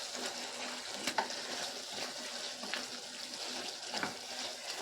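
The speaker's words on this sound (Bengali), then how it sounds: "সয়াবিনগুলো এর ভিতরে দিয়ে দেবো। দিয়ে আবারও নেড়ে চেড়ে কষিয়ে নেব।" Soaked soybean chunks, fried earlier, stirred and sautéed in a pan for a Bengali soybean curry, giving a steady soft sizzle with faint scraping and a few louder clinks of the spoon.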